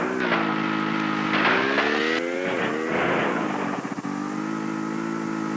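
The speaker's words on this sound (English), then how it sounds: "you'll need the snowmobile to get past this pit. Back up. Crank the throttle wide open." Snowmobile engine in the 1997 video game Tomb Raider 2 revving hard, a buzzing, rising and falling motor whine with the throttle cranked wide open, loud and close with no talk.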